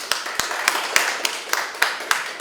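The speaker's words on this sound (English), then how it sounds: "Could we give her a round of applause?" An audience gives a round of applause at a mentoring meeting, with steady clapping and sharp individual claps standing out in a regular rhythm, fairly close and filling the room throughout.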